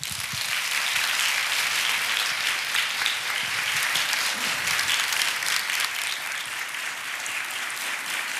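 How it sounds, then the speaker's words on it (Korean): A congregation at an early-morning church prayer service gives loud, sustained applause welcoming a pastor to the stage, a dense crowd of clapping hands continuing for several seconds without speech. "우리 목사님 나오실 때 큰 박수로 환영해 주시기 바랍니다"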